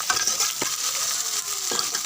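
Onions frying in a pan for a simple goat meat curry, a steady soft sizzle with a couple of brief stirring scrapes, close and fairly quiet.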